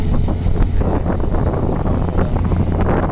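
Strong wind buffets the microphone outdoors at a construction site in Sector 19, making a loud, continuous low roar and rumble with gusty fluctuations throughout and no voices.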